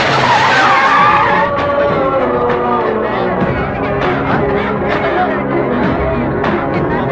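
A speeding car skids during a police chase in a film scene, with shrill tire squeals and engine noise running throughout, mixed with voices.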